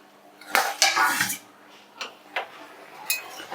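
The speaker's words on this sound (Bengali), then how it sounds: "এবার আমি ঢাকনাটা খুলে নিচ্ছি" A metal lid lifted off a cooking pot holding simmering ol stalks, a cluster of sharp clanks and rattles followed by a few lighter clinks of metal against metal, close and crisp in a quiet room.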